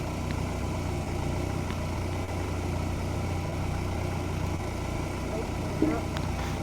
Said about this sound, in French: un moteur de 205, 1 litre 1